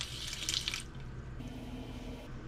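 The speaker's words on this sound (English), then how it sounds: "And then the drinking water comes out of there." Drinking water runs from the faucet of a newly installed reverse osmosis system, a close hissing stream into a sink that stops partway, leaving a low hum and faint drips before another brief splash.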